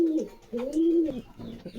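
A pair of local Golla pigeons coos close by in a soft, throaty, wavering pattern: one long rolling coo, a short pause, then broken coos in the last part of the clip. No one speaks.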